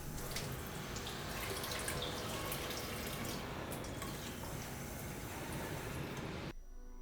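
Water running and dripping as a bisque-fired pottery bowl is washed in a studio sink, a steady close splashing wash that cuts off abruptly near the end.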